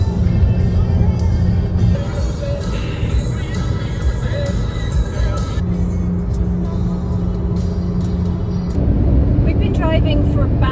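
A car driving on a long road trip through France gives off a steady engine and road rumble from inside the cabin, with voices talking over it now and then.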